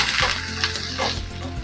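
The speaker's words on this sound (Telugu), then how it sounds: "ఉల్లిపాయ ముక్కలు వేస్తున్నాను అలాగే పచ్చిమిరపకాయలు కూడా వేసేస్తున్నాను అలాగే కరివేపాకు కూడా వేసేస్తున్నాను" Sliced onions, green chillies and curry leaves hit hot oil for a close, loud burst of sizzling crackle, with brief stirring scrapes in the pan.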